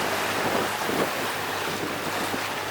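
Choppy sea slaps and washes around a sailboat under way near the Ragged Islands, a steady, loud broadband rush of waves mixed with wind buffeting the microphone, with no voices.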